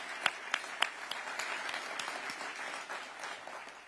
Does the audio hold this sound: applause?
yes